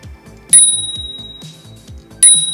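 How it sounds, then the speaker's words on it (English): A small finger-flicked running bell rings twice, each strike a bright, sharp ding that rings on and fades, with a soft rattle between strikes. The bell is close and loud, with no talk. "And here's the run bell."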